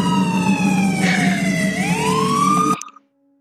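A loud wailing police-style siren from the Siren Cop in a Roblox prison game, a single rising and falling tone held close and steady for nearly three seconds before cutting off.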